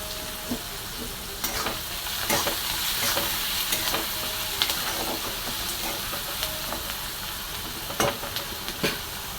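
Onion with a pinch of salt fries and sizzles in a pan, a continuous close hiss broken by scraping stirs and occasional sharp clicks of the spatula, no talking.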